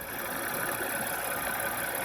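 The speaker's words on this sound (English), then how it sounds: "So let's go ahead and hear the engine." A car bought from a Copart salvage auction idles steadily at close range, with an even mid-pitched rumble and no voices.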